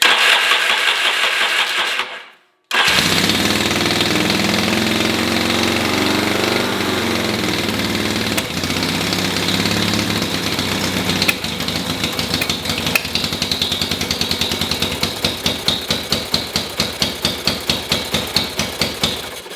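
A Yamaha XS650 motorcycle engine is cranked over, briefly stops, then fires and runs steadily with a rough, loud mechanical clatter and a rapid ticking rhythm, without throttle.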